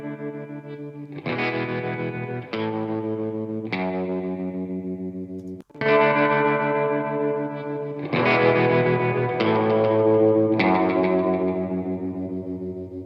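Guitar played through a Slate Digital Stellar Echo SD-201 tape echo, sounding out sustained distorted chords in several bursts with chorus-like shimmer and echo tails, loud and continuous.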